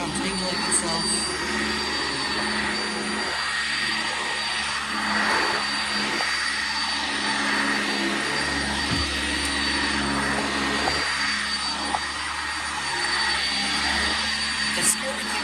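A Sanitaire SC679J upright vacuum cleaner runs steadily on upstairs carpet, giving a loud, continuous whirring drone that holds an even level throughout with only small shifts.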